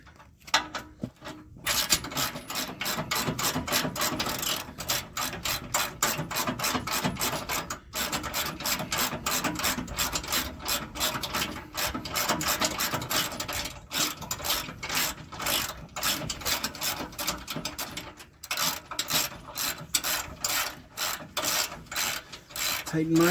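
Bolts on a heavy-duty steel bumper being tightened on a Jeep JK with a hand ratchet, a long run of rapid, close clicking with brief pauses between bursts.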